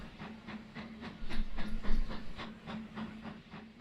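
Train in the game Transport Fever rolling along with a steady rhythmic clickety-clack over a low rumble and hum, the sound swelling louder toward the middle and then easing off.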